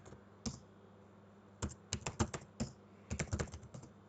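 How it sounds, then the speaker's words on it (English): Keys on a computer keyboard clatter in short irregular bursts as a password is typed, close and clear against a quiet room, with a few pauses between clusters of keystrokes. "Now, if I type in the wrong password,"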